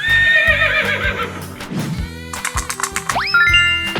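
A shaky, high neigh from a horse in a cartoonish 3D animal video game opens over upbeat looping background music, later giving way to bright plinking notes and a quick upward swoop.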